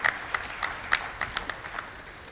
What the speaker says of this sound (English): and everyone's clapping